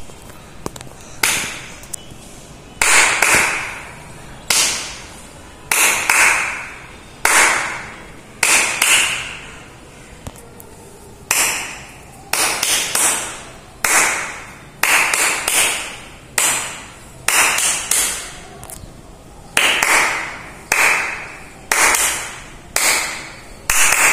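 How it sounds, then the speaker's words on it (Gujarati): A teacher claps out counting patterns for young children in a maths lesson, sharp hand claps grouped in clusters of one, two, three and more with short pauses between groups, close and loud with no talking. "કેવી રીતે તાળી પાડી? સૌથી પહેલા આપણે એક તાળી પાડી"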